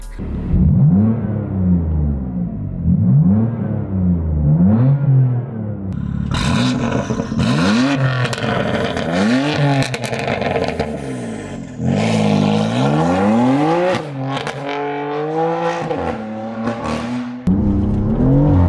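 A loud BMW M4, tuned to Stage 2 on E85 with 580 wheel horsepower, revs hard through repeated gear changes, pitch climbing and dropping again and again, close and roaring.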